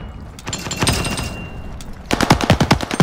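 MG82 machine gun fire in the Call of Duty Vanguard video game, two loud rapid bursts with a short pause between them, the second burst harder and punchier than the first.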